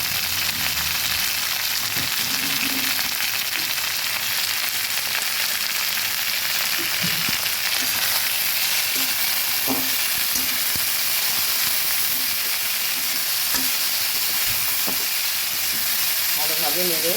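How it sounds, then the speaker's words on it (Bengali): Bitter gourd and diced potato fry in a pan with salt and turmeric, a steady, loud hissing sizzle with occasional soft stirring knocks throughout. "আর করলা ভাজিগুলো দিয়ে দিলাম। এবার দিয়ে দিচ্ছি স্বাদ মতো নুন। এবং হলুদ দিয়ে"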